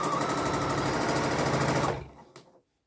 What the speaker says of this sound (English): So I'll sew one time.